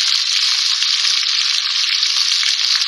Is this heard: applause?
no